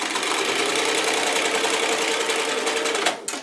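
A sewing machine stitching a fabric stuffed cat kicker, running with a steady rapid mechanical whir and rattle that stops abruptly near the end, alone without talk.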